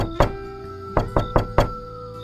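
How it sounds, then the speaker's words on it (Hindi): Loud knocking on a door in a horror story, five heavy thuds: one single knock, then a pause, then four quick knocks in an uneven rhythm, close and resonant over a faint background hum. "अचानक दरवाजे पर जोर से दस्तक होती है।"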